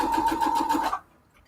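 A sewing machine runs a straight stitch with a straight-stitch-only foot while sewing a fabric storage cube, a rapid even mechanical chatter for about a second that stops abruptly, close and clear.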